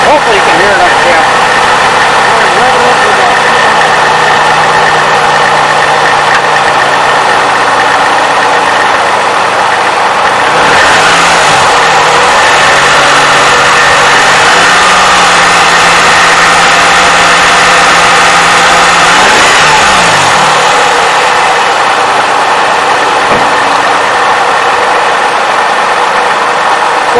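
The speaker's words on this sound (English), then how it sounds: "You hear a little bit of clacking noise coming right from here." A Toyota 3.5L engine idles loudly and steadily with a light clacking tick in the running, close up, with a brief rev-like swell partway through and no clear talking.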